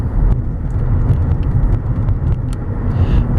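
A 2002 Mercedes-Benz E320 Sport cruises with a steady, low road rumble inside a quiet cabin, continuous and even throughout with faint tire and wind noise.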